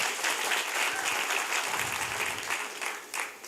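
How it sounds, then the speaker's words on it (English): Audience round of applause at a fireside chat event, steady clapping from a crowd that holds for about three seconds and then thins and fades toward the end. "let's just give Sahil a round of applause"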